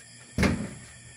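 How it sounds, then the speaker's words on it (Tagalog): A door being opened at a simple home beside a dark creek at night, heard as one sudden clunk and rustle with a short tail, fairly close, with no voices. "bukas mo din yung pinto."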